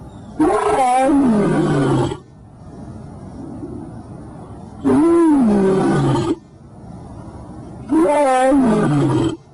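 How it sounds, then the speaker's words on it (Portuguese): A lion roars three times in loud, drawn-out bursts of about two seconds each, separated by quieter pauses, close and alone with no talking. "Olha o leão. O leão pronuncia Yau."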